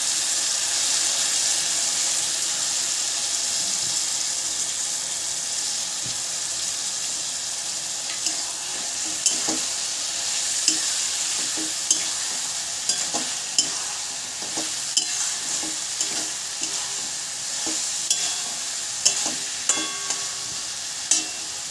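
A spice paste of chili powder, salt and turmeric hits a hot pan and fries with a steady, bright sizzle, joined by intermittent scraping and tapping as it is stirred, close-up and continuous throughout.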